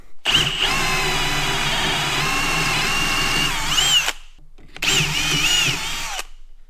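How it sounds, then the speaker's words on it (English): A drill press whines steadily at close range for about four seconds while drilling a pipe, stops briefly, then runs again in a second shorter burst. "I got it in the drill press"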